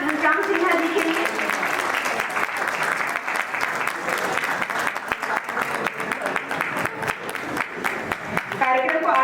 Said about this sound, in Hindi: जोरदार तालियां घनश्याम सिन्हा जी के लिए।